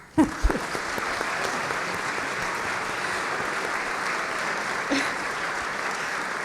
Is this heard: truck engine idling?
no